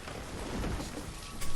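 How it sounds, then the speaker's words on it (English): Steady, soft rain hiss falls over a settlement in the city-building game Banished, a continuous wash of sound with a slightly louder swell near the end. "Oh, lovely bit of rain."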